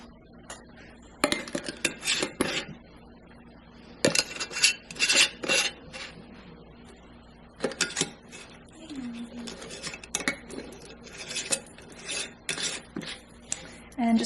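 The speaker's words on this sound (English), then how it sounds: "I'm going to wash this pot out, and I just find this is the cleanest way for me to do it" A cooking pot being washed out in a home kitchen: irregular scrubbing, rubbing and metallic clatter of the pot, with bursts of close clinking and scraping and quieter gaps between.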